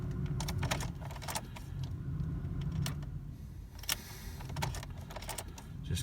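A Ford Focus that won't start gives a rapid run of sharp, close clicks each time the key is turned, despite plenty of battery power, with no engine cranking or firing.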